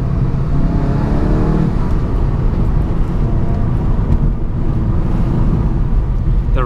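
A VW Golf GTI MK7.5 with a 230PS engine drives along a road, giving a steady engine hum and road and tyre roar with a brief rise in revs midway; no voices are heard.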